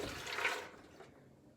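A cup of water poured into a high-speed blender with almonds, a brief bright splashing rush that fades out within about a second, with no talk over it.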